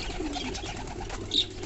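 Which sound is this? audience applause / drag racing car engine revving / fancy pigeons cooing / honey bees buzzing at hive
fancy pigeons cooing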